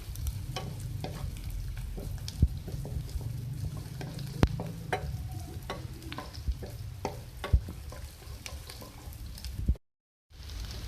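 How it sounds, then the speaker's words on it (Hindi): Green chillies sizzle steadily in a pan, with onions, for a Chinese tinda sabzi, a continuous crackling fry broken by occasional stirring knocks and a brief dropout near the end; no one speaks. "इसके साथ ही इसमें जाएगी हरी मिर्चें, तो फ्राई करें।"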